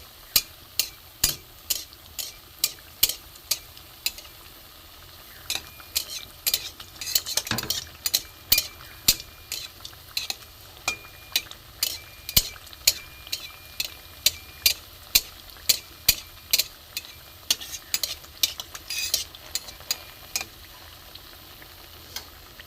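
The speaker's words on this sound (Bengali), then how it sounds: "পিঠেটা ভাজতে একটু সময় লাগে।" Pitha cake frying in a pan, with steady sizzle under a run of sharp clicking and tapping hits spread across the whole stretch, no voices.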